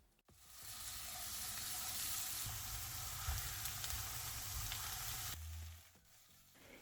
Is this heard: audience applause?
no